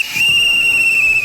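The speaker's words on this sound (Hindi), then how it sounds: "देखो ये तो गार्ड की सीटी है" A guard's whistle from Subway Surfers: one steady, piercing shrill tone held for about a second, loud and alone, with no talking.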